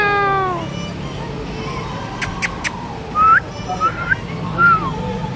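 A cat sitting outdoors on a street gives several short, high meows in the second half, fairly close, after a brief stretch of other tonal sound at the start.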